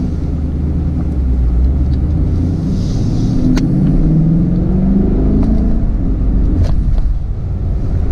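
A car engine, fitted with a new JLT intake and tune, hums and rumbles steadily from inside the cabin while driving, with a smooth low drone and slight pitch changes.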